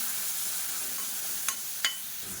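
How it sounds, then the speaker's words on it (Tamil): Green chili, garlic and crushed shallots sauté over a medium flame in a pan, giving a steady close sizzle with a couple of brief scraping stirs. "மீடியமான ஃப்ளேமில் எல்லாத்தையும் நல்லா வதக்கிக்கலாம்."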